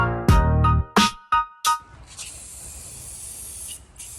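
An LS engine block is sprayed down. Several short, sharp bursts of spray come first, followed by a long steady hiss of spray that runs on at close range, with no voices.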